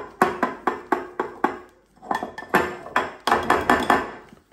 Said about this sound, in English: And I'm just going to whisk those in together